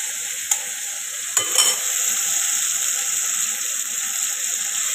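Soybean chunks frying in oil in a pan, a steady close sizzle with a couple of sharp clinks of a spoon or spatula against the pan early on.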